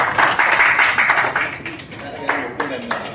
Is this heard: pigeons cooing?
no